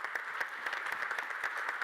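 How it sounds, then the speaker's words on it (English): An audience applauds at the close of a quantum technology event, with steady, dense clapping that stays even and moderately distant throughout, with no voices over it. "I would say a round of applause to all the people involved here."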